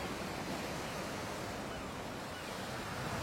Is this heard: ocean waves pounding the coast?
yes